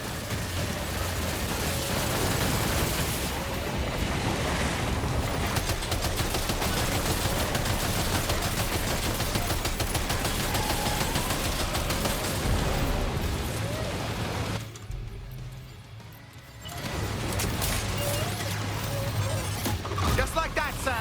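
Sustained rapid gunfire with crashes and bursts in the video game Death Stranding 2, loud and relentless, pausing briefly before resuming, with voices occasionally heard amid the shooting.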